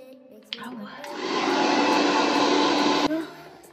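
A hair dryer switches on and blows steadily for about two seconds, close and loud, then cuts off, with faint talk around it before and after.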